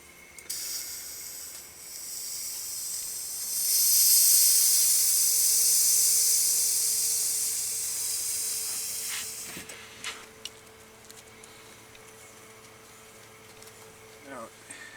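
Propane gas hisses from the relief valve of a green 1 lb camping tank, a loud, steady, bright hiss that swells for several seconds and then tapers off, with low background noise.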